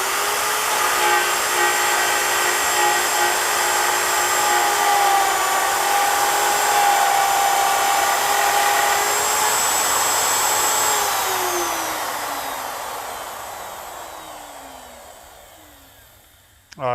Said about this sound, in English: this is a great application for a downcut spiral, because what we're trying to do is protect that veneer from chipping out.